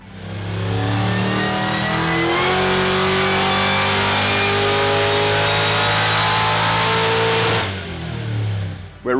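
An engine fitted with a Harrop MK2 TVS2650 supercharger is run hard on a dyno, its loud, close roar climbing steadily in pitch through a long wide-open pull before cutting off abruptly, then settling briefly.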